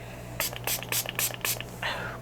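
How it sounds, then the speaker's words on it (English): Several short bursts of Makeup Revolution Pro Fix Oil Control Fixing Spray hiss in a quick uneven rhythm, close and crisp, followed by a softer final puff. "I'm using my Makeup Revolution Pro Fix Oil Control Fixing Spray"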